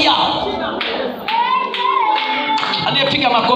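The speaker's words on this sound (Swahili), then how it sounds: "Aliyepiga makofi imani inakuwa zaidi." A church congregation claps during a prayer service, close sharp claps mixed with loud overlapping voices and shouting, clapping and talk blending throughout.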